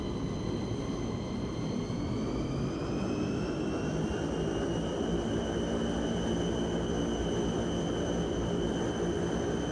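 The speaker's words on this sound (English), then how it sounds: "You can hear the engine sound already." A Fokker F27 engine runs in a flight simulator game, a continuous droning roar with steady high whining tones that rise slightly and then hold, loud and even for the whole stretch without any voices.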